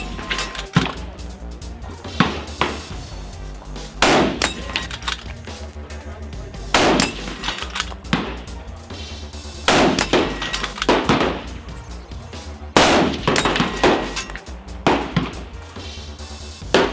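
Loud gunshots from a custom Italian precision rifle ring out at irregular intervals, each sharp crack followed by a brief decay, with around a dozen shots spread across the stretch and no talking.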